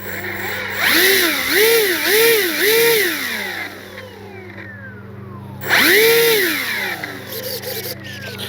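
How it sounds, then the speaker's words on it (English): Electric motor of a Dynam EMB-312 Tucano RC plane whines up and down in three quick rising-and-falling bursts, pauses, then revs once more, loud and close over a steady low hum. "Let me spool that motor up again"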